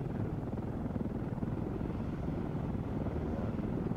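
Helicopter engine in the military video game ArmA 3, a steady, loud rotor and turbine drone that holds constant throughout, with no speech.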